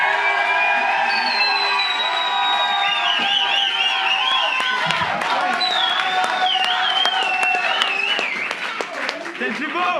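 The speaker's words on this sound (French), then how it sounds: "Vous pouvez applaudir Nathan à la batterie de son groupe." A concert crowd cheers, whoops and applauds a young drummer from a music group, loud and sustained throughout, with high shouts and whistles over the din and voices calling out.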